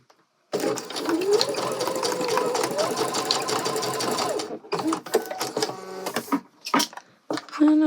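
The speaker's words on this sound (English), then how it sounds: "then stitch across to connect the bias tape together." A sewing machine runs in one steady, continuous burst while stitching across joined bias tape on a gathered dress, followed by brief handling noises and short pauses.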